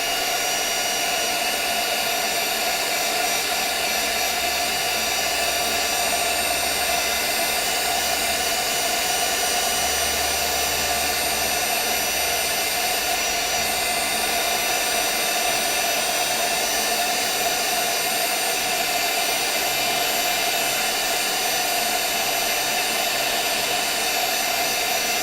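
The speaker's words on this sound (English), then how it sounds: "you don't have to use the heat gun" A heat gun blows hot air in a steady, loud, unbroken roar that holds for the whole stretch, with no voices over it.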